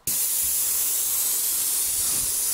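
A steady, continuous hiss of a low-pressure paint sprayer running close by, starting abruptly and holding an even spray for a couple of seconds while painting a wet-area ceiling.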